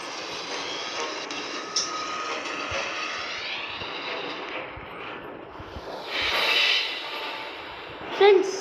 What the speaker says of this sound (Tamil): பின்னாடி பாருங்களா ட்ரெயின்ஸ் வருது